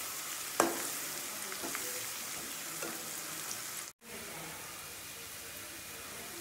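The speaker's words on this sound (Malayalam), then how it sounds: "ഉള്ളി ഒരുവിധം മൂത്ത് വന്നിട്ടുണ്ട്." Onions browning in oil in a pan, a soft steady sizzle with a single sharp clink early on and a brief dropout midway, fairly quiet throughout.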